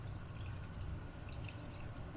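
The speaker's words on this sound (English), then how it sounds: "And then slowly pour in the soup." Chicken stock mixed with water trickles into a cooking pot for homemade army stew, a faint, steady liquid patter and splash with no talk.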